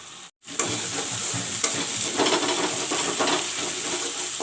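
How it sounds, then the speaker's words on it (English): Masalas for a fish curry fry in a pan with a loud, continuous sizzle, and occasional stirring scrapes run through the sound after a brief silence at the start. "Now I will fry the masalas."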